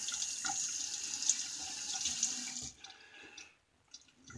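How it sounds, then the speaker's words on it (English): A vintage 1944 Travelong travel razor blade being rinsed under a running tap, with steady water hiss for about two and a half seconds that then tapers off into near silence. "Take your blade out. We'll get that rinsed off."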